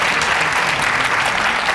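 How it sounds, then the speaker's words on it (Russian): A TV studio audience applauds, a steady, dense wash of clapping from many hands that holds at an even, loud level throughout. "Аплодисменты."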